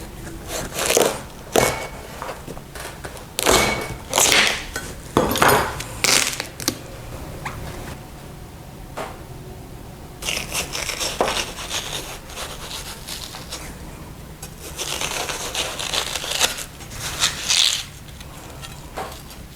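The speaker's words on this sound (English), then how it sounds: "remove it from the rind and then just start cutting it into bite-sized chunks" A knife slicing watermelon flesh off the rind and into bite-sized chunks for a watermelon, mint and feta salad, heard as repeated close, crisp cutting strokes on a board in bursts with brief pauses.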